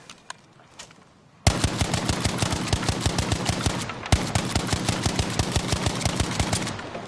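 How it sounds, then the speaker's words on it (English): An STG rifle in Battlefield V fired on single-fire mode with no mods: after a quiet start, rapid, evenly spaced loud shots ring out in a continuous rhythm for several seconds, one sharper report partway through. "That's me shooting on single fire"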